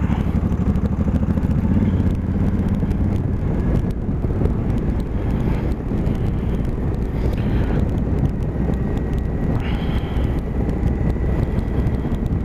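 Honda Africa Twin motorcycle riding along a dirt road, its steady engine drone continuous throughout with heavy wind buffeting the microphone and no talk.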